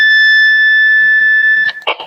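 Alarm mode on a Quansheng UV-K5 handheld radio gives a loud, steady, piercing electronic tone that holds unbroken, then cuts off and is followed by a few handling clicks.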